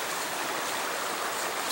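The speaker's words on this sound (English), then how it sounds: "down here at the river." River water flowing at a winter survival campsite, a continuous broad rushing and babbling that stays steady and fairly loud throughout, heard up close with no voices.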